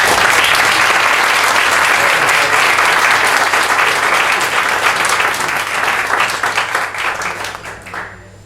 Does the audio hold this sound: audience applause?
yes